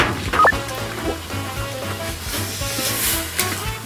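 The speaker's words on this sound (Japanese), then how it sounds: "おお、沸騰してるしてる。" Soft, continuous hiss and bubbling of water boiling in a pot for pasta, steady and close, with a brief clink near the start.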